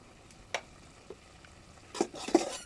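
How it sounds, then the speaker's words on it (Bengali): Brinjal sautéed with chili powder and salt in a pan, quiet at first with a couple of light taps, then a cluster of close scraping stirs near the end. "সুন্দর করে কষিয়ে নেব।"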